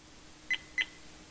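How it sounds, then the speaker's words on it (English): A VIOFO A119 Mini 2 dash cam gives two short, high warning beeps about a quarter second apart, faint and clean over a quiet background hiss. "Those beeps that you're hearing right now"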